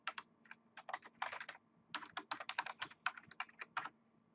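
Rapid bursts of typing on a computer keyboard, close and crisp, in uneven clusters of keystrokes with short pauses between them.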